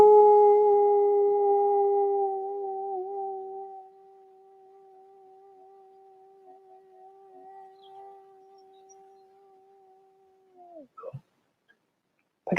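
A sustained voice imitation of a coyote howl, held as a steady wavering tone for several seconds, louder at first and then thinner and quieter, ending with a brief exclamation.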